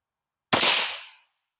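A Savage Mark II rifle chambered in the new .21 Sharp rimfire cartridge fires a single sharp, loud shot at a range, with a quick crack and a short fading tail, then silence.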